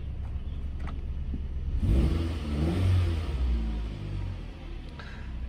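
A 2012 Jeep Patriot with a 2.4 liter engine, automatic all-wheel drive, runs in gear with left suspension damage, its steady mid-pitched engine drone swelling twice as it moves, close and continuous.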